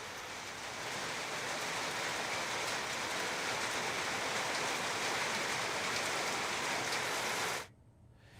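Heavy rain pours down in Bengaluru as a dense, steady roar of water hitting surfaces that holds constant and loud, then cuts off abruptly near the end.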